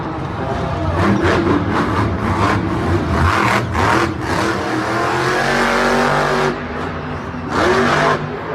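The El Toro Loco monster truck roars and revs in a stadium, its engine surging loudly in repeated bursts with crowd noise and echoing arena ambience throughout.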